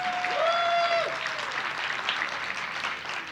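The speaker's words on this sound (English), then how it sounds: "All right, let's applaud for Prince." An audience claps for Prince during a lecture-series afternoon session, a steady wash of applause from a seated crowd, fairly distant and even, with a brief high electronic tone over the opening second.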